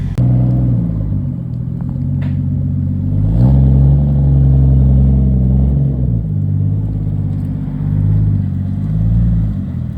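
A 1987 Toyota Supra with a 7M-GTE engine runs steadily while reversing, its low rumbling idle swelling briefly with light throttle, close and continuous with no talking.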